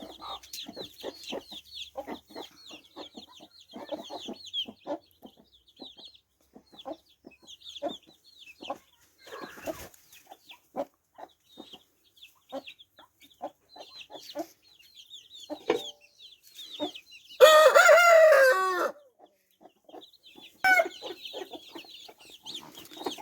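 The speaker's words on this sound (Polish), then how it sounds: "Jedna kwoka i druga kwoka." Broody hens of Brahma and Silkie breeds clucking repeatedly in short, irregular bursts close by, with one louder squawking outburst near the end and some scratching in between.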